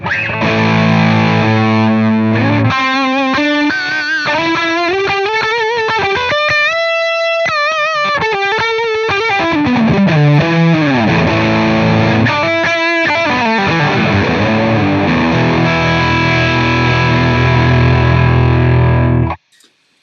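A heavily distorted electric guitar runs through a Suhr PT100 amp plugin with every EQ control maxed, giving a loud, saturated, buzzing tone across sustained chords and bending melodic runs before stopping abruptly.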